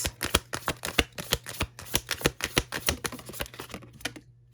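Tarot cards are shuffled in a quick series of crisp, rhythmic riffles and taps, close and fairly quiet, with no voices.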